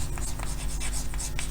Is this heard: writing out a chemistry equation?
yes